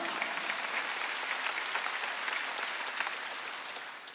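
Church congregation applauding together, a steady dense wash of many hands clapping that holds at an even level throughout with no talk over it.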